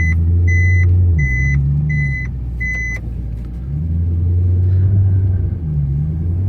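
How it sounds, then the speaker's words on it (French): A Maserati GranTurismo S spins out on a circuit: a deep engine rumble rising and falling close by, with a rapid series of beeping warning tones over the first few seconds and no talk. "Ah, un peu trop de gaz, tête à queue."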